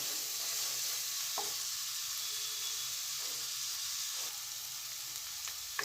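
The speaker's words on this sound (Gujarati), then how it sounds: "કાંદાને આપણે 2 થી 3 મિનિટ સાંતળીશું એટલે એનો કલર ચેન્જ થાય અને થોડું સોફ્ટ પણ થઈ જાય" Onions sautéing in a pan for dal fry give a steady, close sizzle with a broad hiss and a few soft stirring scrapes, with no talk.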